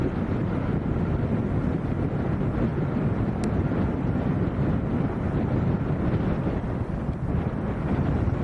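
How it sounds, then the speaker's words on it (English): Wind blowing at Leeds Bradford Airport, a continuous loud buffeting rush across the microphone with no talk, steady throughout with slight gusting. "It's the wind that puts me off."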